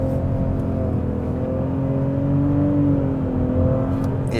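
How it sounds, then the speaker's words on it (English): A 2024 Nissan Rogue Platinum SUV accelerates hard in first gear, its engine note holding a steady, rising drone from inside the cabin without pause. "We'll really open her up over here. First gear on the gas."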